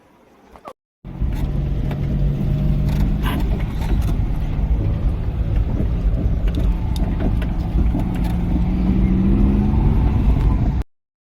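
A car drives to Bishnupur railway station early in the morning, its engine a steady, loud rumble heard from inside for about ten seconds with faint rattles over it, before it cuts off suddenly.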